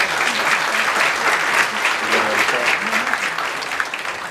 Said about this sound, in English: I just want everybody to give everybody a round of applause for ending veteran homelessness in the country